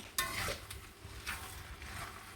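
Chicken chow mein being stirred in a pan with soy sauce and sesame oil, giving a soft scraping stir over a low steady sizzle, close and fairly quiet.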